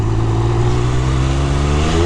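A 1200cc Triumph Speed Triple RR street-legal race bike runs with a loud, steady engine drone and slowly rising pitch, heard close up on a ride with wind noise mixed in.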